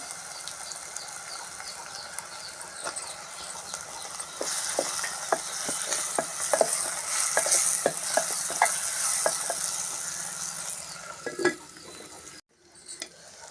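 Onion and tomato frying in a pan for a Telugu taro root (chamadumpa) tamarind curry, with a steady close sizzle broken by repeated stirring clicks and scrapes, then a sudden drop to near silence at the end.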